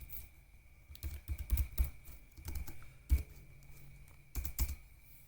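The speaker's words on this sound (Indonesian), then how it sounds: "ini saya ketik kodenya dulu" Keys clatter on a computer keyboard as Python code is typed, in irregular bursts of close, crisp taps separated by short pauses, with no voices.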